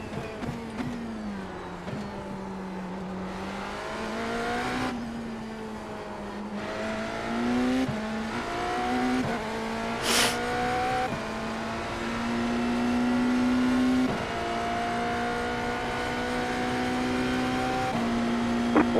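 Racing game hypercar engines drone steadily throughout, their pitch rising and shifting as cars accelerate and pass, with a brief sharp burst near the middle.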